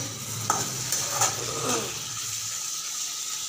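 Spiced masala being stirred and sautéed in a pan for a parshe fish curry: a handful of quick spatula scrapes over a soft sizzle in the first two seconds, then a quieter simmering hiss.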